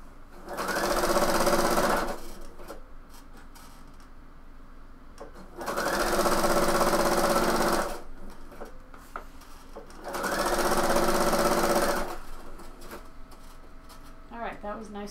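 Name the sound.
sewing machine straight stitch on bomber jacket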